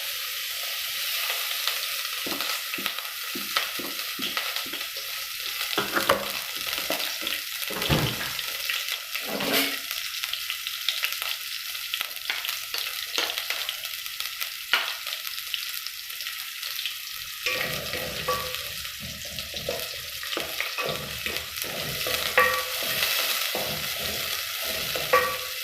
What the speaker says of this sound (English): So here we are going to add in the onion, and then we add cooking oil.